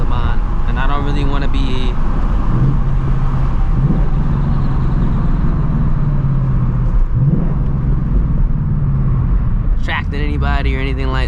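A 2024 Ford Mustang GT with a loud exhaust drives at night, its engine rumbling steadily up close with rising and falling pitch as it accelerates and shifts, under someone talking at the start and end.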